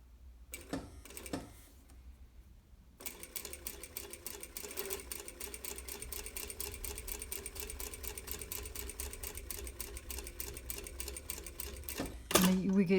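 A sewing machine runs a steady, fast stitching drone while sewing basting rows along a seam allowance, starting after a brief pause with a few short clicks, close and even, with a voice talking over it.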